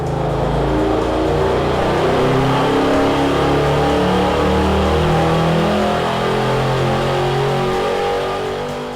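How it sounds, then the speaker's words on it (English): A GM LS2 V8 filled with synthetic 5W-40 oil roars steadily at high revs throughout a dyno pull, loud and sustained with a continuous droning engine note and no voices. "Now we will fill the engine with the leading synthetic 5W40 oil and make our dyno run."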